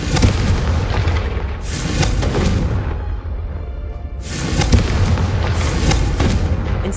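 Repeated fiery spell blasts from Hogwarts Legacy, booming explosive bursts swelling loud over a constant low rumble, in two or three heavy waves with no voices.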